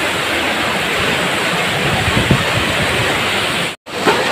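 A waterfall roars in a steady broadband rush, loud and continuous, cut by a brief dropout near the end before resuming.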